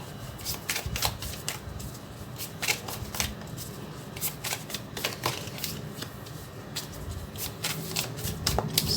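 Tarot cards are shuffled by hand for a reading, a busy run of crisp riffling and slapping flutters that repeats in quick bursts throughout, close and clear with no talking.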